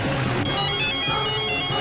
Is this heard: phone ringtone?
yes